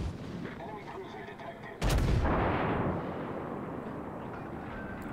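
A battleship's heavy guns fire in World of Warships, one loud booming salvo that bursts out suddenly and rolls away into a long rumbling decay over a low background of game ambience.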